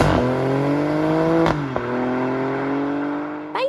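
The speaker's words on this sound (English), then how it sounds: "something backed up very nicely by a rather loud exhaust" A 2021 facelift Alfa Romeo Stelvio Quadrifoglio SUV with a 2.9-litre twin-turbo V6 and loud exhaust revs steadily with a rising, rasping engine note. Brief gear-change dips break the drone before a sharp crackle at the end.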